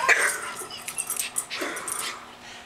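A Schipperke dog whimpers and wheezes indoors while a futon is being flipped, giving a string of short, breathy whines and yips close by with no talk over them.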